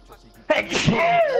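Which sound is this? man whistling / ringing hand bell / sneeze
sneeze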